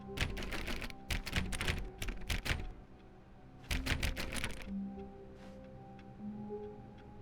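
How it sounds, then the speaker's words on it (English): Left-click sounds in The Stanley Parable come as rapid bursts of sharp clicking in quick clusters, much like typing. After the clicks stop, faint tonal hums and beeps continue. "Whenever I left click in here, that's all I hear."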